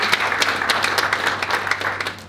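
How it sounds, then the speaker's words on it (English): A summit audience claps their hands together in a close, busy burst of applause, crisp individual claps standing out over a low steady hum. "clap your hands"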